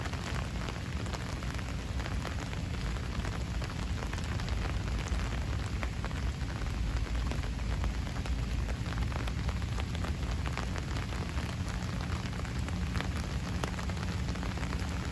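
Heavy rain from Hurricane Henri pours down on a New York City street, a loud, dense, unbroken patter of drops on hard surfaces that holds steady throughout with no voices.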